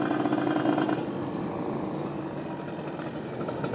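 A Kawasaki Ninja RR motorcycle engine running with a newly replaced carburetor and new needle jet, holding a steady idle with a slight rise in revs at the start before settling, close and without talk.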